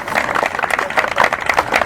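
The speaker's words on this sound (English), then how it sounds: "Yes, we can clap for that." Clapping from an audience at a press conference announcing Lucid Motors' Casa Grande manufacturing plant: dense, fairly loud, irregular handclaps sustained through the whole two seconds, with no speech.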